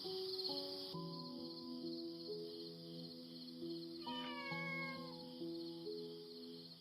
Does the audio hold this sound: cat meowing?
yes